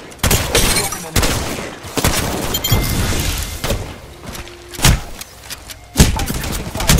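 Apex Legends gunfire: loud, sharp shots and bursts hammer out at irregular intervals across several seconds, with thuds and a brief voice line between volleys.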